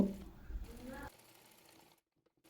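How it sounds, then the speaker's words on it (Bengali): Sewing machine stitching the body panel of a kameez, a short burst of loud, rapid mechanical whirring that stops after about a second, followed by faint quiet. "এবার বডি পার্টের মাপ অনুযায়ী বডি পার্টটি সেলাই করে নেব।"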